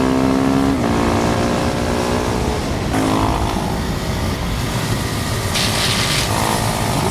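Continuous engine drone of a KTM Duke 390 motorcycle on Dunlop Sportsmart TT tyres while riding, with steady harmonic tones that shift in pitch at gear changes and strong wind rush throughout, loud and close.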